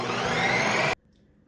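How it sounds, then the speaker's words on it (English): Ninja CREAMI ice cream maker spinning a protein ice cream pint, a loud, harsh, steady motor whir that cuts off abruptly partway, followed by near silence and a faint sound at the end. "we're going to push go. So this will run about 4 minutes"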